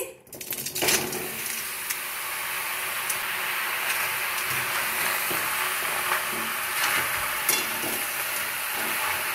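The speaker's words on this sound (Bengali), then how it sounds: "কড়াইতেই আমি কুলগুলো দিয়ে দিচ্ছি।" Jujube berries being stirred with coarse pickle spices in a wok, with a steady, close sizzle and scraping stir throughout after a brief quiet opening, plus occasional sharper clicks of the spatula.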